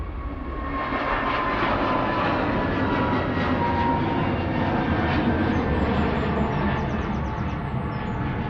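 Airbus A321neo jet departing Manchester Airport, a loud, steady roar of engines that holds throughout, with no voices.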